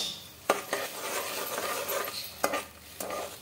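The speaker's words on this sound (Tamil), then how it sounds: "சேர்த்துட்டு நல்லா மிக்ஸ் பண்ணி விட்டுடலாம்." A utensil stirs sugar and water into ghee in a pan, making a few sharp scraping clicks against the metal and soft swishing strokes at close range, with no talking.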